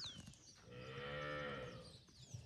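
Nelore cattle on a farm moo once in a single long, drawn-out call, fairly faint and somewhat distant, with light background noise and no speech.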